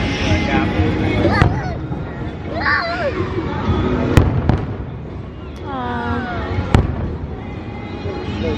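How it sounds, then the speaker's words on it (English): Fireworks at Walt Disney World pop and crackle in scattered sharp bursts and whistles, moderately close, over constant crowd chatter and people talking. "Yeah, so we watched fireworks."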